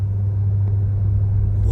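A VinFast VF8 creeps forward on its own creep torque, giving a steady low rumble and hum that holds even and continuous throughout, with faint road noise layered above it.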